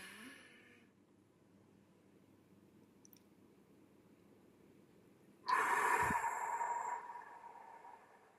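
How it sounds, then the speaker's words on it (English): Box breathing: after a faint opening exhale, a near-silent hold follows, then a sudden loud, close breath rushes in through the nose and mouth for about a second and a half before trailing off softly. "So let's all just breathe in for 4."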